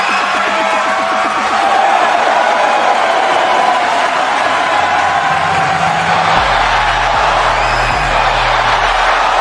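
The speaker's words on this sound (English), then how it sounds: "And the crowd is loving Trick Williams here tonight" Arena crowd at a TNA steel cage championship wrestling event cheers and roars steadily throughout, a dense continuous wash of voices with occasional whoops and low rumbling underneath.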